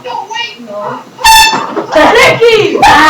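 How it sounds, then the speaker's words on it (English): An air horn blares in short, loud blasts, cutting in sharply between excited voices talking and shouting close by. "You're gonna waste the air horn."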